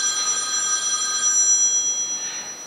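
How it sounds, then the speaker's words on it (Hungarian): A mobile phone rings during a Hungarian university radio broadcast, its steady electronic tone running loud and continuous for nearly three seconds with no talking over it. "ha már megcsörrent a mobiltelefon"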